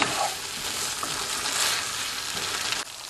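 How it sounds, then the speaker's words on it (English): Mushrooms being stirred into a peanut butter sauce in a pan give a steady, close sizzle with soft scraping, loud and continuous, cutting off briefly near the end; no talking. "Let's just stir it in, make sure they get coated in this sauce."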